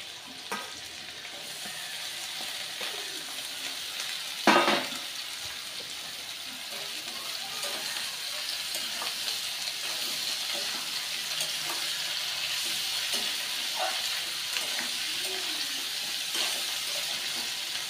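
Capsicum and mixed vegetables for fried rice fry in a pan with a steady, close sizzle and light stirring, with a short sharp clatter early on and faint running-water noise underneath.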